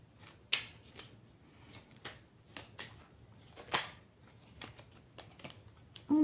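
A deck of oracle cards is cut and shuffled by hand in quiet, close, irregular riffles and soft slaps spread over several seconds, with no voices.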